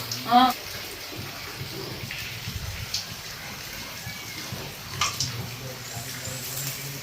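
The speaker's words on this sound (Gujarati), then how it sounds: "અહીંયા અમારા રસોડામાં પાણી પડે ટપક પદ્ધતિ ચાલુ છે દીવાલ રીજે છે ઉપરથી" Rainwater leaking from the ceiling splashes and drips into a kitchen in a faint, steady patter, with people talking nearby over it.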